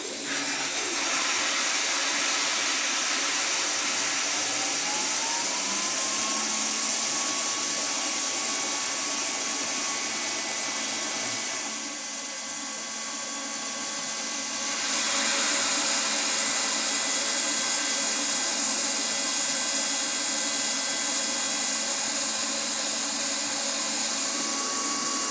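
WeCreat Vision Pro laser cutter working on a 2x4 wood blank, a steady hissing, fan-like whoosh with a faint rising tone, continuous and close, dipping briefly midway before resuming; no voices.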